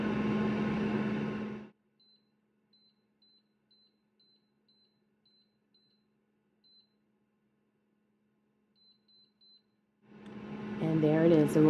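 A New Wave Brio digital air fryer, set for frozen fries at 400 degrees, gives a series of short, quiet, high beeps in an evenly spaced run, then a brief second run, between stretches of a person talking.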